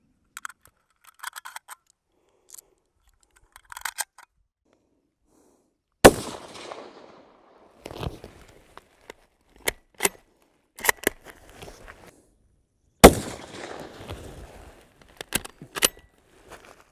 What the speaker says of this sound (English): All right, that was the 10th round of the Polyformance 123 grain.